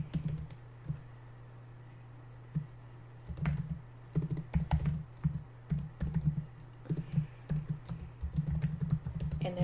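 Password keystrokes tapped out on a computer keyboard, clusters of quick clicks in uneven bursts over a steady low hum, close and fairly quiet, no voices.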